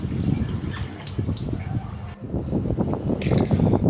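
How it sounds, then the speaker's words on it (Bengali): Running tap water rinses a kitchen sink basin washed with soap at home, a steady close rush of water with splashing and scrubbing throughout. "এখন বেসিনটাও সুন্দর করে ধুয়ে নেব"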